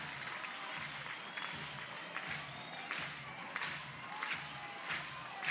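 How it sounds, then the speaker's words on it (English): Softball stadium crowd at a college regional game between Cleveland State and Oklahoma, a broad wash of applause and cheering with scattered sharp claps, steady and moderately distant. "Crowd comes to life."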